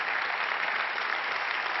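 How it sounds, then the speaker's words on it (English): Audience applause at a political party congress, a steady, dense clapping from a large crowd that holds even and fairly loud throughout with no voices over it. "yes, you can give her an applause, of course"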